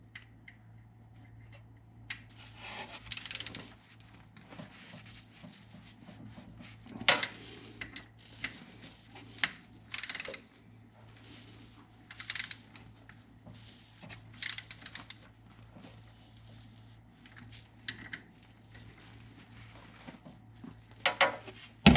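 A ratchet clicks in short bursts while tightening the drain plugs on a Yamaha Wolverine X4 side-by-side during an oil change, the quiet ticking falling in separate spurts against a faint low hum.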